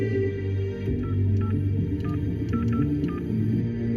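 Rapid keypad tones of a phone number being dialed, about a dozen short beeps in quick irregular succession over a steady low hum indoors.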